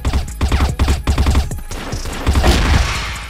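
Rapid bursts of video game gunfire crack out in a dense, close volley, with shots overlapping in quick succession and a few heavier thumps near the end.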